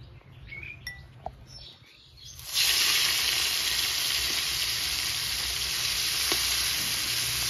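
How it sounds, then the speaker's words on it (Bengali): Shrimp coated in salt and turmeric drop into hot oil, bursting into a loud, steady sizzle that holds without pause after a few quiet scrapes and taps. "চিংড়ি মাছ ভাজা হতে থাক"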